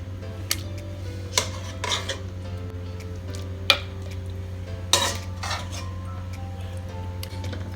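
Chicken going into a greased clay pot brings a few sharp clinks and scrapes of a utensil against the pot, spaced irregularly over a constant low kitchen hum, with no talking.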